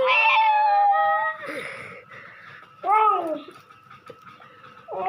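A small child playing a little bride imitates a cat with several drawn-out, wavering meows, loud and close, separated by short quiet gaps with faint background sounds.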